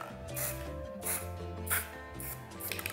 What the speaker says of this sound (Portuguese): Vou dando borrifadas de spray.